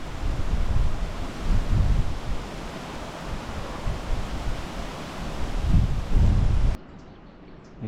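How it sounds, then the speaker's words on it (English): Gusty storm wind along the Guadiana river in Spain, loud rushing blasts that surge and ease in waves before cutting off abruptly near the end. "Storm blowing in, mega windy."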